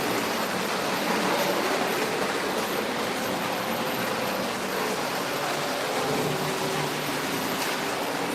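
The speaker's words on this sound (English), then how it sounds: "I hope you guys enjoy the trains." An O gauge model train runs steadily on its track, a continuous close rumble with faint rail clatter, no talking.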